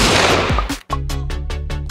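Python revolver fired as a test shot in a Bonelab mod video game, a loud close blast after a brief lead-in, followed by a rapid rhythmic series of repeated booming bursts.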